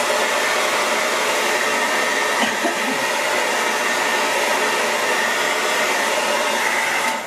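A hair dryer runs steadily and loudly at close range to dry a painting, a constant breathy whoosh that holds for several seconds before tailing off at the end, no voices.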